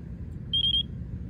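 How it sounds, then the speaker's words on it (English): A FrSky R9 Slim receiver in bind mode gives a short run of three quick high-pitched beeps, clear and close against a quiet low hum. "You power it off, then you go into bind. It's gonna start to beep again."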